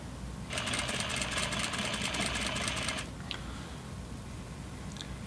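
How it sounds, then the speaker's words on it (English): A sewing machine stitching a pocket on flannel pajama pants, running in a fast steady mechanical whir for about two and a half seconds, then stopping, leaving a couple of faint clicks. "we're going to sew to this line, and then we're going to come across and sew around the pocket."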